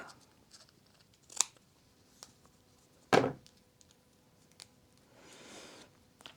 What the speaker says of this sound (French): Ensuite, je coupe.